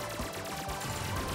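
Rapid bursts of gunfire come from a shooting stage of the video game Bakeru, a dense, rattling string of shots over busy game music, with no talk.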